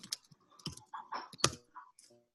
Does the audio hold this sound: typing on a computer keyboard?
yes